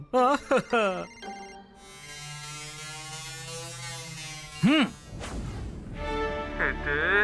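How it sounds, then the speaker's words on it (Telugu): A phone rings with an incoming call, a steady buzzing electronic tone that holds for a few seconds between animated cartoon voices speaking before and after it. "ఇప్పుడు నా ఫ్రెండ్ కేఎం ఫోన్ చేస్తున్నారు."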